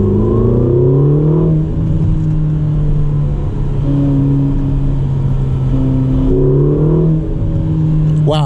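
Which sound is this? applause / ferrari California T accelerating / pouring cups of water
ferrari California T accelerating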